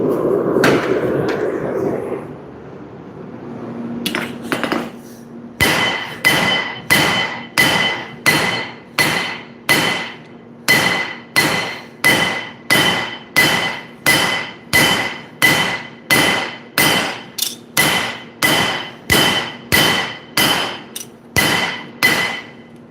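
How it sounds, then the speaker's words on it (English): A nakiri knife blade forged by hand hammer, a long steady run of ringing metal blows at an even, slow rhythm, loud and close, after a few scattered knocks and a burst of noise at the start. "See if I'm getting close to the length here. Yeah, slow forging at this stage."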